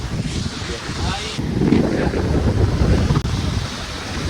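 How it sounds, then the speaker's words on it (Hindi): Sea surf and strong wind buffeting the microphone at Rishikonda beach in Vizag make a loud, continuous roar with no break. "और ये समंदर"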